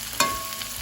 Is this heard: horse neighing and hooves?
no